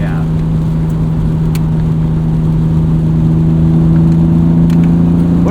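A steady, loud 1998 BMW E36 M3 engine drone hums through a Rogue Engineering dual muffler exhaust, holding a low, even tone with a slight rise toward the end, no voices.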